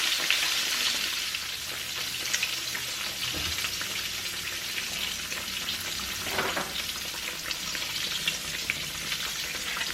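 Sliced green tomatoes fry in hot oil for Southern fried green tomatoes, giving a continuous bright sizzle and crackle with scattered pops, close and steady throughout with no talking.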